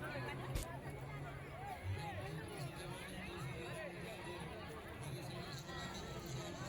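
Dense crowd chatter and hubbub at a crowded Durga Pooja and Navratri celebration, a steady wash of many voices close around, with a sharp knock near the start.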